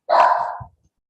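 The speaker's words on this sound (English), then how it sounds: "my dog's going to bark" A dog gives a single loud, close bark, sharp and slightly drawn out, then quiet.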